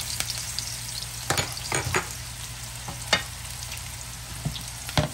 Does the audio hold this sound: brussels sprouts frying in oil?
yes